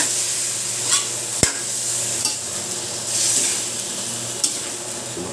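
Pork belly for hamonado sizzling loudly and steadily in a hot pan, with one sharp clank of a utensil near the start and occasional spits and pops.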